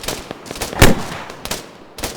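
Gunfire in the military shooter game Arma during infantry combat: several separate sharp shots at irregular intervals, one louder burst near the middle, over a steady background of distant battle noise.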